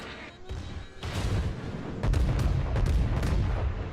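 Naval guns and secondary batteries fire in the World of Warships video game, a series of heavy booming blasts with rumbling tails that grow denser and louder toward the end.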